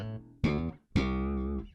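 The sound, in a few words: slap bass lick from a disco song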